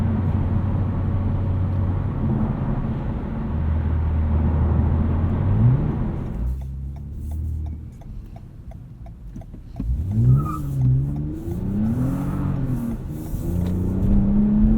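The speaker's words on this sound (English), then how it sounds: "Traction control doing a decent job of controlling wheel spin there" A 2020 Toyota Camry TRD V6 pulls hard from inside the cabin, the engine droning and climbing in pitch through the gears, steady and fairly loud with no talking.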